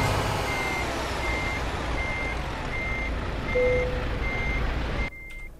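A heavy Volvo truck hauling a seventy tonne load reverses in Euro Truck Simulator 2, its steady evenly spaced backup beeps sounding over a loud, continuous engine rumble that drops away abruptly near the end.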